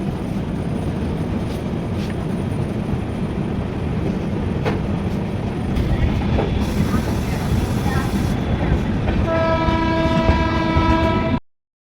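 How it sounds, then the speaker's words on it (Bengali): A train from Delhi to Nainital rumbles steadily along the tracks, a dense clattering roar throughout, and near the end a long horn sounds loudly over the noise. "ট্রেনটা খুব ভালোই যাচ্ছে"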